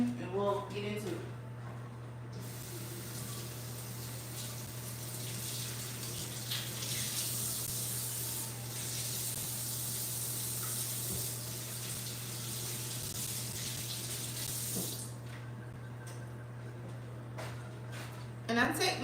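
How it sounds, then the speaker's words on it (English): Tap water runs steadily into a kitchen sink while hands are washed before baking a pound cake, a close, continuous rushing stream over a low steady hum, with brief handling noises at the start and end. "So let me wash my hands and we'll get into it."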